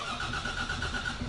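A bus engine turning over and settling into a steady mid-pitched running rumble, continuous and fairly close, heard alone as a sound effect.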